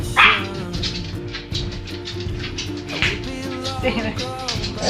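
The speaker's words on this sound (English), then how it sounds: "all of a sudden the dog's got something to say" Dog barking on a boat during reef fishing in the Florida Keys, a series of sharp repeated barks and yips close by, fairly loud, with some background noise.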